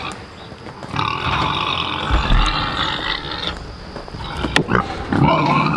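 Low, rough pig grunts rise and fall over a steady noisy background, with a few sharp knocks and rustles scattered through, on a homestead at feeding time.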